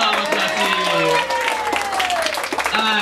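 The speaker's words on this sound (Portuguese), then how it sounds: "uma salva de palmas pra Silvia." Audience applause at a stage show with a runway presentation, clapping mixed with a voice and sustained tonal sound over it.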